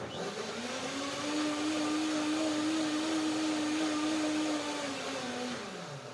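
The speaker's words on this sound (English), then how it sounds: "Just to blend the lemon in" A blender whirs steadily, blending lemon into a cashew and sesame curd. The loud motor spins up, holds an even drone for several seconds, then slows down near the end. No one speaks over it.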